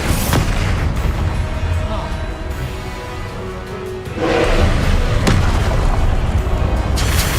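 Blast-spell explosions from the wizarding game Hogwarts Legacy, a series of booming bursts spread across the stretch, fairly loud, with busy game noise between them and heavier impacts in the second half.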